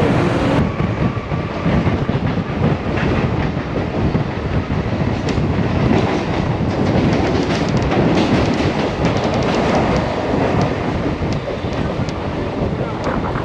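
A Mumbai local train boarded at Byculla rattles along in a loud, steady roar, with rushing wind buffeting the microphone, constant rumbling and faint clatter throughout.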